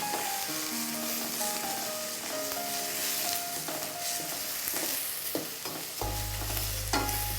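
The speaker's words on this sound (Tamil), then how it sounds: "இப்போ பீக்கங்காய் போட்டு நல்லா வதக்கிக்கலாம்." Sliced ridge gourd sautés in a pan over mustard seeds and is stirred steadily, giving a close, continuous sizzle with scraping strokes, soft tonal music underneath and a heavy low hum entering near the end.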